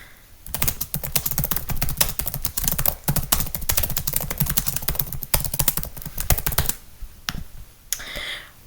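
Rapid, steady typing on a computer keyboard, a dense run of crisp close key clicks with brief pauses, ending in a few scattered taps and a louder final keystroke.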